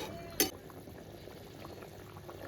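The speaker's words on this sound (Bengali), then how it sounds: "বলক চলে এসেছে।" Soybean curry bubbles at a low simmer in a pot, soft steady burbling close by, with one brief louder clink near the start and no voices.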